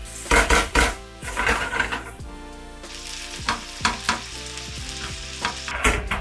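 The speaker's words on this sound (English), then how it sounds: "rendering out all of that lovely fat in there" Bacon sizzling and rendering its fat in a pan for a rustic French pea dish, crackling loudly under repeated clanks and scrapes of a utensil against the pan.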